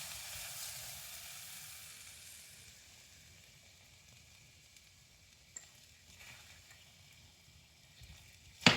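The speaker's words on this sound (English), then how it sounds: "we're going to add our sauce, and the xanthan gum is going to act like the cornstarch" Sauce thickened with xanthan gum sizzles in a hot pan for Kung Pao chicken, a steady close frying hiss that slowly fades, with a couple of sharp clinks near the end.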